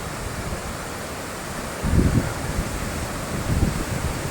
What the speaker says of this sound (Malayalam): നല്ല അടിപൊളി കാറ്റ്